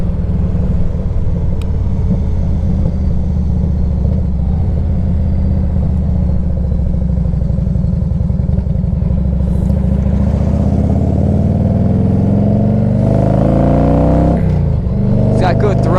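Engine of a 1998 Harley-Davidson Electra Glide Classic on a test drive, a loud, steady low rumble with shifting pitch as it works through the gears, with wind noise building toward the end.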